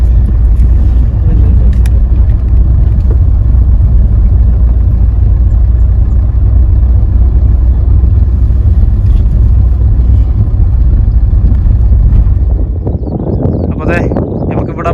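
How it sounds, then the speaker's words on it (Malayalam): A motorboat engine on a river drones loudly and steadily close by as it passes, with wind buffeting the microphone, then the roar drops away near the end. "ഈ ബോട്ട് കടന്നിട്ട് വേണം നമുക്ക് അക്കരെ പോകാൻ"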